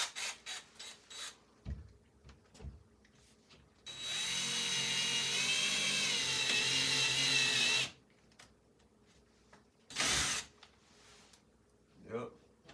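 A power drill whirs steadily and loudly for about four seconds, with short bursts of talk before and after and a brief second blip of motor noise later.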